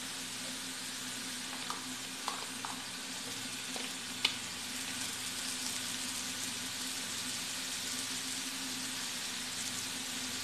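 Liver, onion and olives sauté in a pan with a steady, even sizzle throughout, broken by a few faint clinks of a utensil.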